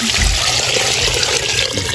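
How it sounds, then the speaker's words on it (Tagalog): Water pours steadily into a cooking pot for a sour vinegar-braised pinaksiw dish, a loud, continuous splashing rush that fills the whole stretch without a break. "Lagyan na po natin ng tubig."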